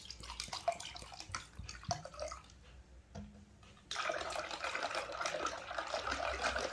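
Water is poured into thinned curd in a bowl for a summer drink, giving soft trickling and splashing bursts at close range, with a fuller, steadier pour in the second half.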